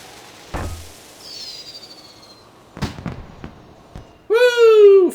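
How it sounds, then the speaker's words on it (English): World of Warcraft fireworks from a requisitioned firework launcher: a sharp launch bang, a whistling rise, then a cluster of crackling pops, ending on a loud squealing tonal cry, all fairly close in a quiet setting. "Hey, gyrocopters! Have some fireworks!"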